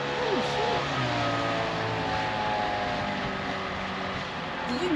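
A motorboat speeds along the Murray River, its engine a steady, close droning roar throughout. People talk and exclaim over it.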